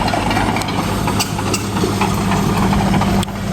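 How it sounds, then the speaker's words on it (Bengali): A Hitachi excavator arrives to clean a drain outside a farm, its diesel engine rumbling loud and close in a steady low drone, with a brief dip near the end. "মেশিন নিয়ে আসছে, হিটাচি নিয়ে আসছে"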